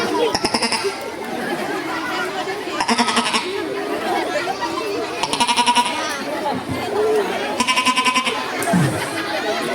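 Repeated high-pitched bleats of a young goat, four bursts spaced a couple of seconds apart, over a steady background of chatter and outdoor noise.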